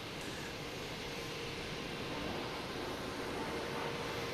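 A JetBlue airliner in a veterans-tribute livery passes at Boston Logan Airport in the evening, a steady broadband jet roar that holds at moderate distance without any voices.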